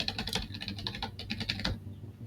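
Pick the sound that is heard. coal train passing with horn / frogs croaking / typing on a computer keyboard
typing on a computer keyboard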